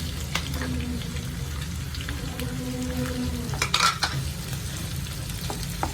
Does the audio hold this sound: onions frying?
yes